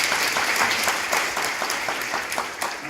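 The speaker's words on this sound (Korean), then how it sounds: "큰 박수 부탁드리겠습니다." Sustained applause from an audience at a Korean public testimony event, steady clapping filling the whole stretch at a fairly close, even level with no talk over it.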